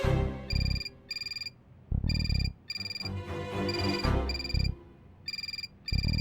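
A telephone rings in a police station, its electronic ringtone repeating in regular bursts with short gaps and continuing steadily over several cycles alongside music or background sound.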